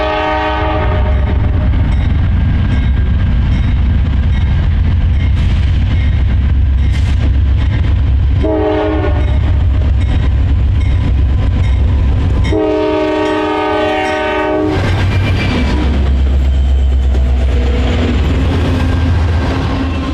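A freight train hauling empty oil tankers rolls past, with a steady loud rumble of wheels and cars throughout and several long horn blasts sounding over it.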